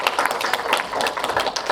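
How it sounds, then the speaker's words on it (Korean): A room full of attendees claps steadily at a Korean debate on international marriage, hosted by the head of the Korea Marriage Brokers Association; the applause is dense and continuous, filling the short moment without a break. "여러분 박수 한번"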